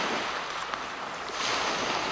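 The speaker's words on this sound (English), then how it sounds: "can you hear the waves crashing in?" Waves rolling onto a Lake Superior shore in winter, a continuous broadband wash of surf with wind noise, loud and close, no talking.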